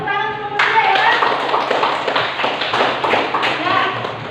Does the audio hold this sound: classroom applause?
yes